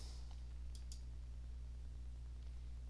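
A computer mouse clicks twice in quick succession to select a publish option in software, faint and close against a quiet, steady hum.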